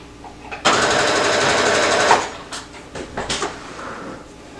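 A sewing machine runs over the ruffles of a summer romper, with one loud, close burst of rapid stitching lasting about a second and a half, followed by a few lighter clicks and handling knocks.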